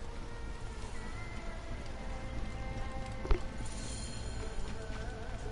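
Horse hooves clip-clop in the Assassin's Creed Origins video game, a faint steady clatter under an ambient bed of rain-like hiss, with one brief louder knock partway through.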